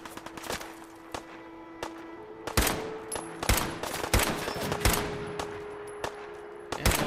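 Bursts of video game gunfire in Fallout 4, including minigun fire, crack out in repeated loud volleys and single sharp shots over a steady background hum, with no talking.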